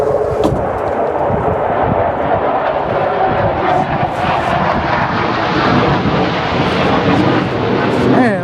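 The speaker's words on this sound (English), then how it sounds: "Some jets flying over." F-16 fighter jets roar loudly overhead, a sustained, heavy engine rumble and whoosh that swells and holds throughout without letting up.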